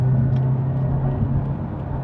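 Toyota 86 sports car rounding a gentle city curve, its engine a steady low drone with a faint hum of road noise, close and continuous throughout.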